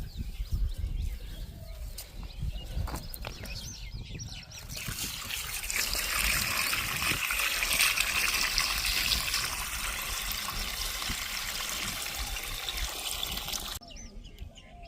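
Irrigation water from a new shallow pump flowing into an onion field, a continuous trickling and rushing that swells louder midway, with birds calling faintly in the open air.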